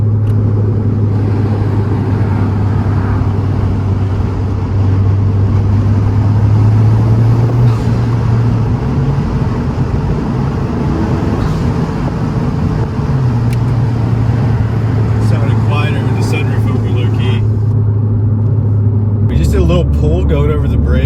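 A 10th-gen Honda Civic Si fitted with a PRL Cobra cold air intake pulls in fourth gear near 3,000 RPM at about 50 mph, giving a loud, sustained in-cabin engine drone with rising pitch and a steady road rumble underneath.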